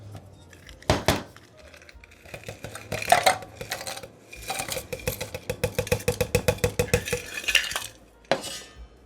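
Ice cubes clatter into a cocktail glass for a Three Mules drink, a series of sharp close clinks and knocks, with a quick run of rattling taps near the end.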